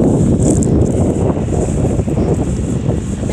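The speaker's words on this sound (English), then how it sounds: "that wind is a little bit nippy" Wind blowing steadily outdoors across a yard near sundown, a loud continuous rushing roar with gusty swells and microphone buffeting throughout, with no talking.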